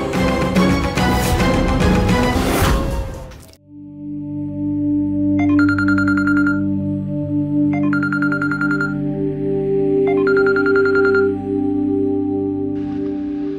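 A telephone rings in three evenly spaced bursts over a sustained dramatic music bed, after a short loud musical sting, in a Bengali TV drama scene.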